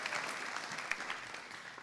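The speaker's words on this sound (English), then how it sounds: "And one more round of applause for the Luxinger Brothers Scholarship Endowment." An audience at a community foundation scholarship night applauding, a brief, even wash of clapping from a crowd heard at some distance, no voices over it.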